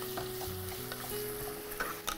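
Onion, tomato and green chili being sautéed in a pan, a quiet sizzle with soft stirring scrapes and a couple of sharper clinks near the end, plus a faint background hum.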